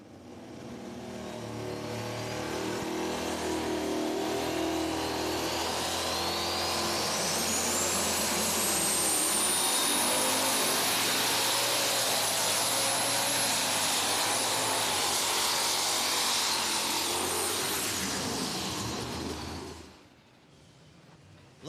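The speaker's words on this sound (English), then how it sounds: "Turning some RPMs, putting some punishment to the engine" Pulling tractor engine at an NTPA truck and tractor pull revs hard through a sled run, a loud sustained roar with a rising whine building, holding near full power for about twenty seconds, then cutting off abruptly.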